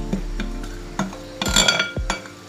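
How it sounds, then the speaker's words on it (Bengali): Spoon stirring and mixing paneer tikka sandwich filling in a bowl, several sharp clinks and scrapes spaced unevenly against a faint low hum, close and fairly loud. "এবার এগুলো সব একসাথে আমি মিশিয়ে নিচ্ছি।"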